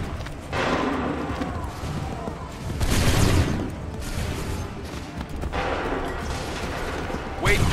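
Musket volleys and battlefield gunfire at the Battle of Lexington in Assassin's Creed III Remastered, loud bursts of crackling shots and booms rolling through a noisy field, with shouted voices in the mix.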